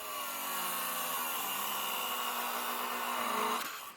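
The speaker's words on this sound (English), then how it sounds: "I can cut this bracket right here at a little bit of an angle" A power tool cutting through a metal bracket on a Ford F-150 build, a steady high-pitched grinding whine held for several seconds before stopping abruptly, close and loud with no talk.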